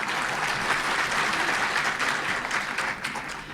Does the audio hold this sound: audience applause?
yes